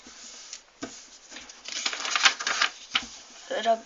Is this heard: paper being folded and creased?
yes